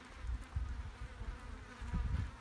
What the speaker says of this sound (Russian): Ой, видишь, сколько мух налетело.